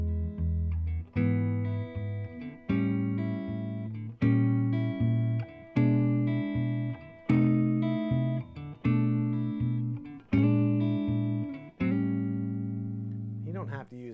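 An acoustic guitar plays a blues chord substitution moving from the I chord to the IV, sounding a run of strummed chords in an even rhythm, each ringing out clearly and alone, close and fairly loud.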